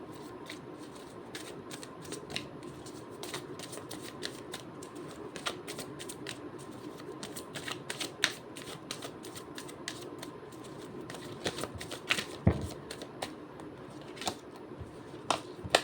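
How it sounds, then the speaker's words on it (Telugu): Tarot cards riffle and slap in a rapid, irregular stream of crisp clicks and flutters, close up and steady for the whole stretch, with no talking. "cards shuffle చేసినంతసేపు"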